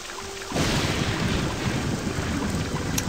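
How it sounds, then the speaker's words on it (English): A steady, loud wash of rain and wind from a rainstorm in the video game Starwind swells in after a brief quieter moment and holds evenly throughout. "See, the rainstorm hasn't dissipated yet huh."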